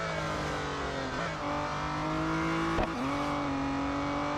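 Race car in the mobile game Real Racing 3 holds a steady high engine whine with slight pitch shifts and a brief scrape or skid midway, continuous and close, no talk.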